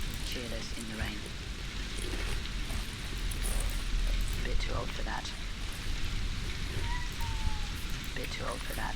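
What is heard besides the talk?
rain falling, from a video game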